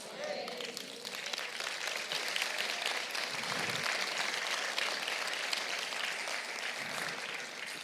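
A church congregation applauds steadily at a sermon, a broad continuous wash of clapping that stays even from start to end.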